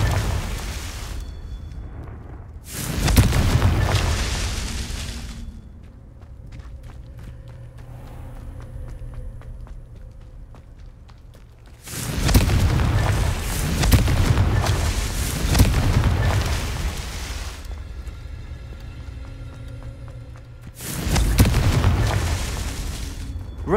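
Blasting-spell explosions in the game Hogwarts Legacy go off three times as loud, deep booms, each with a rumbling tail, separated by quieter stretches of ambient game sound.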